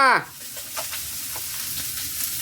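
Cauliflower frying in a pan makes a continuous close sizzle with soft stirring clicks, following a brief vocal sound right at the start.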